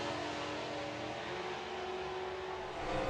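A drag racing car at the STP Summer Nationals 2021 pulls hard down the strip, a steady loud engine roar with strong tonal harmonics that holds level and swells slightly at the very end.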